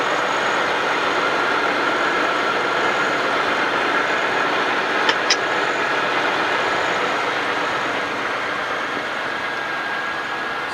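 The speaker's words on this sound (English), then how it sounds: "We're looking at our idle now after we cleaned the throttle body." A GM 3.8 V6 car engine idles steadily after a throttle body cleaning, a continuous close, even hum with no talking.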